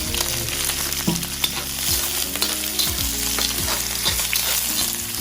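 Green chilli and capsicum stir-frying in a pan for fried rice, a loud continuous sizzle broken by repeated clanking strokes of a spatula against the metal.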